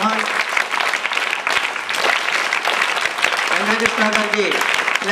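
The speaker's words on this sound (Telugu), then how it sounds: "Especially claps, great claps, big claps." At a teachers' award ceremony, an audience claps loudly and steadily, a thick continuous wash of hands with faint voices underneath.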